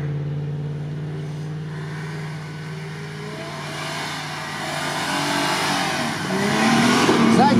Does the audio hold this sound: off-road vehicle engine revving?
yes